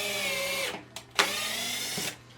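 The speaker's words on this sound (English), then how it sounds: "They're running one of these drywall screws into this table" A small 3.6-volt USB-C Hoto drill whirs as it drives a drywall screw into a table, running in two short bursts with a brief stop between them, close and fairly quiet.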